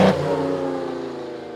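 A 1951–52 Ferrari 212 engine revs hard near the start, then holds a steady, throaty drone as the revs settle around 3,500 to 5,000 RPM, loud and close with no talking.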